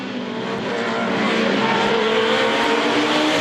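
Historic race cars at Le Mans Classic roar past at close range in a loud, continuous engine drone that builds slightly as they go by.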